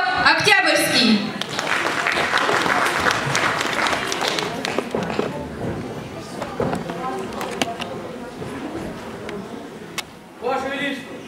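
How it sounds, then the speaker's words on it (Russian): Audience applause in a village hall welcoming a youth theatre studio in Oktyabrsky settlement, a dense sustained clapping that fades gradually, with voices and stage sounds rising near the end. "аплодисментами встречаем"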